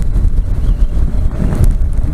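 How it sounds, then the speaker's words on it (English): Strong wind buffets a microphone on an outdoor motorcycle ride, a loud, continuous low rumble with gusty swells and no voices. "it's pretty windy out today"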